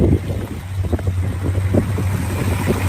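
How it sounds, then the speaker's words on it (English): Muscle car fitted with headers sits idling, its engine a steady low rumble that runs smooth and even, close by with some wind noise and no talk. "there's the engine, sounds good. Runs nice and smooth."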